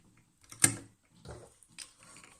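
A sewing machine backstitching elastic on a shaped fabric mask: a sharp mechanical clack, then short faint runs of stitching with small clicks, quiet and close.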